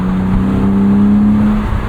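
A 1999 BMW Z3 M Roadster's S52 engine hums at a steady, fairly loud pitch, rising slightly as if being revved, with no voices.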